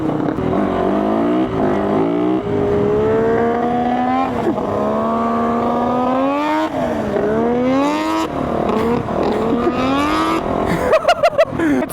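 A 450 dirt bike engine revs hard while being ridden, its pitch climbing and dropping through repeated throttle pulls, loud and close, with wind buffeting.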